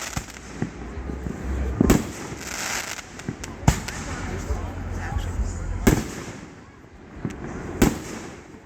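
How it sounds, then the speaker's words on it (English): Fireworks show bursting close and loud, sharp cracking booms at irregular intervals over a steady crackling rumble, with people talking and laughing throughout. "they literally like just started the fireworks"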